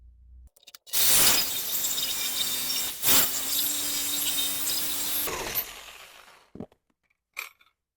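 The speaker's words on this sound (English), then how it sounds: "I guess I'm going to see if the sawzall do anything. Cut through these bolts." A Sawzall reciprocating saw cuts through rusted body-mount bolts on a Jeep Wrangler TJ, a loud continuous grinding buzz running about four seconds with a brief break mid-cut, then trailing off into a few faint clicks.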